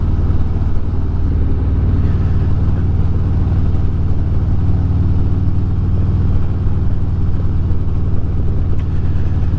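Steady, loud engine drone from a Harley-Davidson motorcycle riding at the front of a group ride, a continuous low rumble with no pauses, heard from close on the bike throughout.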